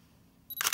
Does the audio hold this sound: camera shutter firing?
yes